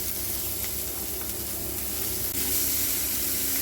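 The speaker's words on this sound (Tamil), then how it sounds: "சீரகம் கொஞ்சம் கலரானதும் நம்ம பொடியாக கட் பண்ணி வச்சுட்டு ஒரு 2 வெங்காயம் போட்டுக்கிறேன்." Chopped onions sizzle with cumin in a hot pan, a steady, close, fairly loud frying hiss with small crackles throughout, no talking.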